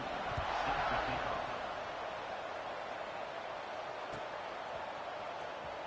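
Football stadium crowd buzzing after a touchdown, a broad, steady roar of many voices, loud at first and then settling into a constant hum.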